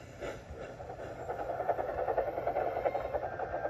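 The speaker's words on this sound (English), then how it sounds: "Thomas puffed across the countryside." Thomas the steam engine puffs along through the countryside at night, a steady, rhythmic chuffing of rail wheels and steam that holds a moderate level and grows slightly busier toward the end, with no voices.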